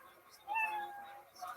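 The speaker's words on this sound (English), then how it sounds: "you know your minute's up when you hear the sound of a kitty" A tiny kitten meow sound effect plays as a thin, high, drawn-out mew over a quiet background, with a second fainter chirp near the end.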